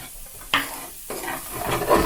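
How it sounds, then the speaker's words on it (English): Chopped red onion dropped into a hot pan and frying, a loud close sizzle that rises in two sudden bursts and then holds steady as the pieces are stirred, with no talk. "I'm going to put all this onion I cut up in here."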